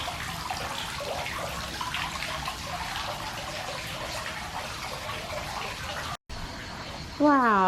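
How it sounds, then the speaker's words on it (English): Small garden fountains run with a steady, close splashing trickle of water that continues without a break, outdoors in Jamaica. "Look at these little cool hideaway spots and these little cool fountains."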